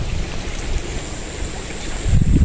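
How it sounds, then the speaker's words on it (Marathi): Steady rushing water of a flooded river flows throughout, a broad continuous roar with wind buffeting, growing louder and rougher near the end. "नदीचं बघा, नदी भरपूर पाणी येत आहे, भरपूर"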